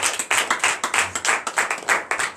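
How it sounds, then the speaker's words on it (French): A congregation at a morning prayer service claps hard in a quick, uneven rhythm of loud, close hand claps, each burst sharp and bright, for a couple of seconds without speech. "Que je vous demande d'applaudir très fort"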